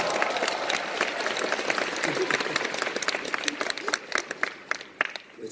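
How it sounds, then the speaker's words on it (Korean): A concert audience breaks into applause, a thick crowd of clapping that holds steady and then thins into scattered individual claps toward the end, with some voices mixed in. "우리 박수 한번."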